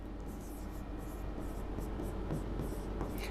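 Steady scratchy marker or chalk strokes on a classroom board during a maths lesson on percentages, running continuously and fairly close over a low background hiss, with no voice.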